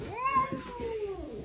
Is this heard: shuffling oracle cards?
no